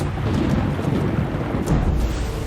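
Torrential rain from a hurricane in the city of Tapachula, a dense, steady roar of heavy downpour with deep rumbling and no voices.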